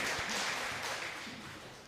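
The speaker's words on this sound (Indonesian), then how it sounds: "Boleh tepuk tangan sekali lagi dong ya" Church congregation clapping after a choir performance, a dense, steady wash of applause from a crowd that gently fades toward the end.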